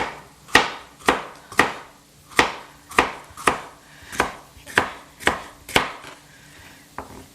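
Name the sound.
knife slicing green pepper into shreds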